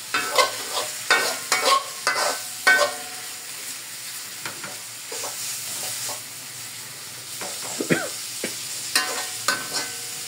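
Oil sizzles steadily as rice is fried, with repeated scraping and stirring clatters from a spatula in a pan, close up.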